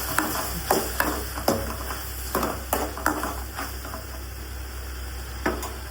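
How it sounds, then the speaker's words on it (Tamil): Tomatoes sauté in a pan with a steady sizzle, broken by a regular run of scraping, knocking stirs from close by, with no talk. "அதுக்குள்ளார தக்காளி ஒரு வணக்கி விட்டுடலாம்"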